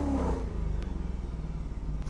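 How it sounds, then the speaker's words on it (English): A Porsche 928 with a big V8 starts up in a console racing game, cranking briefly before settling into a low, rhythmic, pulsing idle heard up close. "And here's how it sounds like when you start it up"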